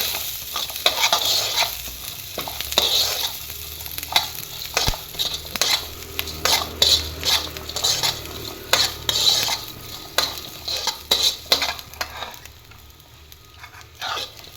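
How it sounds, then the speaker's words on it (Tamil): Onion and garlic frying in oil for egg salna, stirred briskly with a metal spoon that scrapes and taps against the pan in an uneven rhythm over a constant close sizzle. "வறுத்துட்டு இப்போ இதில் கொஞ்சம் ஆனியனும் பூண்டு ஆட் பண்ணிக்கலாம். ஆட் பண்ணிவிட்டு நல்லா வறுத்துக்கோங்க"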